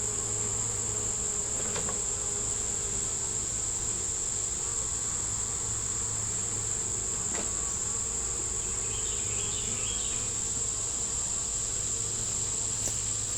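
Dense buzzing of honeybees in a beetle-infested hive hums steadily throughout, with a constant high whine and a low drone, plus a couple of brief clicks.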